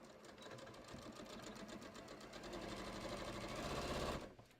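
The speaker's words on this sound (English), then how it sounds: "I'm just going to sew this." A sewing machine stitches patio cushion covers in a continuous, close mechanical whir that builds slightly before stopping abruptly near the end.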